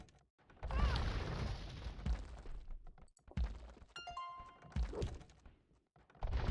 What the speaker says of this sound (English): Mangonel firing on the TC here.